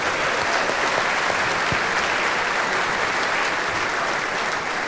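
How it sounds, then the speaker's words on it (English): Fans at a Marillion fan-convention audience session give a sustained round of applause, thick and even clapping from a large crowd filling the room with no break and no clear talk over it. "Thank you. Round of applause."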